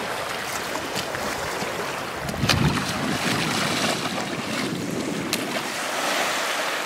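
Ocean surf rolling in at high tide on Sandy Hook beach, New Jersey, a steady wash of breaking waves with gusts of wind buffeting the microphone.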